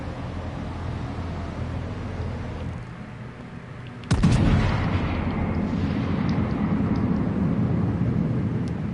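Naval guns in World of Warships fire one loud, sharp salvo partway through, after which a heavy rumbling roar continues under steady engine and sea noise.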